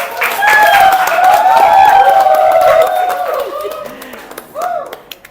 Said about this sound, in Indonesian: Kita berikan aplaus dulu dong.